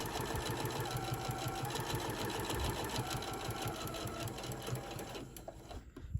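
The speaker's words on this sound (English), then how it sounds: "I'm just gonna slowly just go and start sewing all the way around" A sewing machine runs steadily, stitching through the thick layers of a decorative hot pad with a loud, close, rhythmic whirring hum that eases off near the end.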